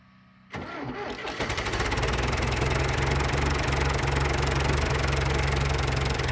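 Tractor engine cranking briefly and then catching without a jump box, firing up after about half a second and settling into a loud, steady knocking idle close by.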